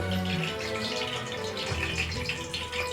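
Cumin seeds sizzle in hot oil with a dense, continuous crackling hiss over a low rumble, fairly close and steady throughout, with no voices.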